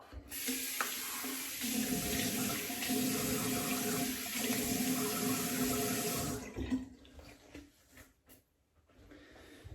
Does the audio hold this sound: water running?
yes